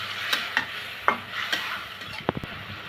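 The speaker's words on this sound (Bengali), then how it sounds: "মশলার সাথে ভালো করে মাছটা আমি কষিয়ে নেব।" Rohu fish head and belly pieces fry with spices, a soft sizzle under repeated scrapes and stirring taps from a spatula, close by, with no talking.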